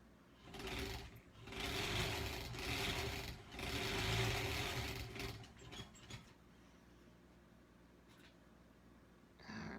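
A sewing machine runs in steady bursts stitching quilt strips for a Granny Squares quilt, its whirring motor and rhythmic needle clatter close and quiet, then stopping into a soft handling rustle.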